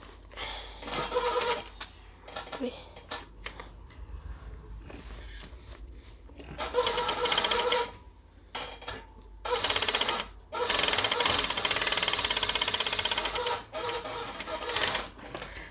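A sewing machine stitching a kurta collar runs in loud bursts of rapid mechanical clatter, starting and stopping repeatedly, with quieter handling noise between runs.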